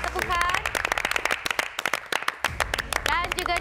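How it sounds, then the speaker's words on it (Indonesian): Audience clapping on a televised cooking competition set, brisk and mixed with lively voices and background music. "Kita berikan tepukan"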